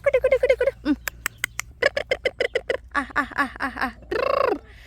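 Fowl on a farm, with rapid bursts of clucking and gobbling calls close by, loud and repeated in quick rhythmic runs, ending in a longer drawn-out call.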